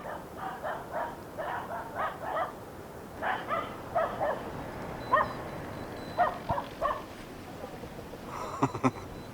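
Several dogs bark in bursts near a flying RC glider out in the open, the yapping coming in uneven clusters with short pauses and a louder, closer flurry at the end.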